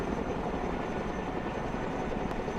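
A Chinook helicopter in the video game Broken Arrow gives off a steady, dense rotor and engine roar, moderately quiet and unbroken, with no voices over it.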